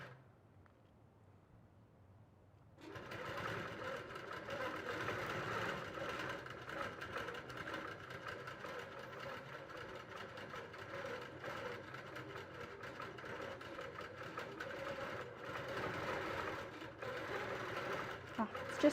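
A quilting sewing machine stitches steadily and continuously after a quiet start, its mechanical whir holding an even, busy rhythm close by; a person talks over it at times.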